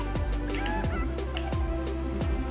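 Chicken clucking in the Fortnite video game, a run of short repeated clucks roughly every half second over a steady game background and music.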